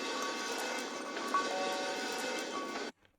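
Bells synth preset from a free sample pack played at its normal pitch, a dense, sustained bright tone with shimmering metallic partials held steadily for about three seconds before cutting off abruptly.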